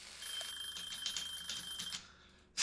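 A kitchen timer in the Cooking Simulator video game keeps up a steady, high electronic beeping for about two seconds, then cuts off abruptly, with no voices.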